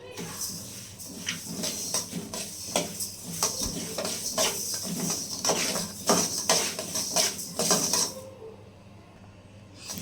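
One cup of flax seeds dry-roasting in a pan for chutney powder, giving dense crackling and popping mixed with metallic stirring scrapes for several seconds before the sound drops away near the end.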